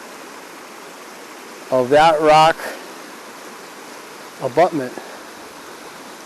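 River water rushes steadily past a dam, rock abutment and powerhouse, a constant broadband roar that fills the scene. Someone speaks briefly twice over it.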